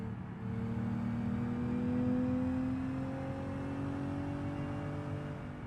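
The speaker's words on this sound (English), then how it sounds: "I would be going 80 miles an hour on the interstate with a really wonky front end" A car in the BeamNG driving game cruises on the interstate at about 80 miles an hour with a wonky, unpredictable front end. Its engine holds a steady, fairly loud drone that swells slightly and then settles, with no talk over it.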